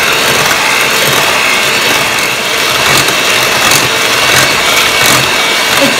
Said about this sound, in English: We'll use our hand mixer to mix all these ingredients. Cream it until it's nice and creamy.